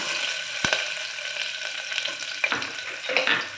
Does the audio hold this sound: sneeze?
no